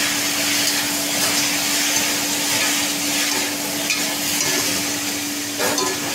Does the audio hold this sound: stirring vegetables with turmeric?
yes